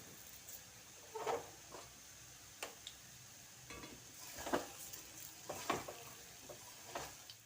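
Palm fritters (taler bora) frying in oil in a wok: a faint, soft sizzle with scattered pops and crackles, plus a few clearer stirring or scraping knocks at irregular moments.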